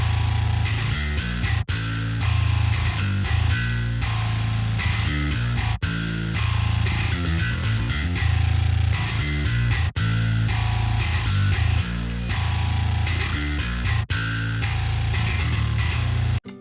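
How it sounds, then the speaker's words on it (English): Heavily processed bass guitar sits inside a dense, loud progressive metal mix with distorted guitars and drums, chugging in tight rhythmic bursts with brief breaks, no voices present. "So the final bass within the mix sounds like this."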